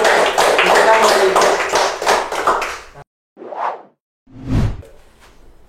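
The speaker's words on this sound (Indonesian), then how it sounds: "Kami tepuk tangan." A group claps hands together at a cadet academy gathering, with loud dense applause filling the first three seconds, then two short separate bursts of claps after brief silences, fading out.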